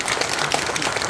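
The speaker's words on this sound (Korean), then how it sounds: "박수 한번 보내주세요." Audience applause fills a hall at a Buddhist memorial tea ceremony at the Gulsansa temple site in Gangneung, a dense, steady wash of many hands clapping close and loud throughout, with no break.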